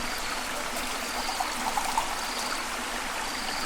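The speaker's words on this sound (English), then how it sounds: "Pour me a cup, if you don't mind." Liquid pours steadily into a cup outdoors in a rainy jungle camp, a continuous soft trickle against a wet background with a few faint splashy accents.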